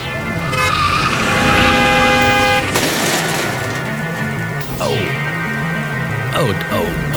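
Car crash effect in a Halloween audio drama: loud skidding and horn-like tones build up, then a sharp impact noise and lingering clatter, with busy traffic underneath throughout.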